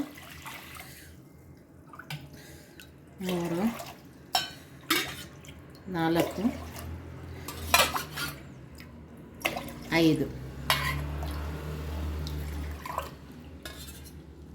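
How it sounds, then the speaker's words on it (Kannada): Glasses of water are tipped one after another into a pressure cooker, with faint splashes and clinks between stretches of a person speaking and counting aloud. "ಈಗ ಈ ಲೋಟದಲ್ಲಿ 6 ಲೋಟ ನೀರು ಹಾಕ್ತೀನಿ ನೋಡಿ"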